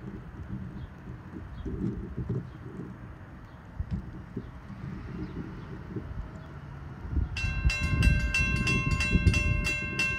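Southbound shuttle train 473 on the Springfield Line rumbles past with a steady rolling roar of wheels on rails, growing louder near the end as its horn sounds a long, bright blast.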